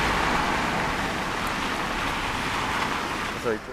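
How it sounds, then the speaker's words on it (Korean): Heavy rain pours down outdoors at a castle site in Kumamoto as a dense, even hiss that fills the whole stretch, loud and close, ending with a brief vocal sound. "비가 엄청 와 지금"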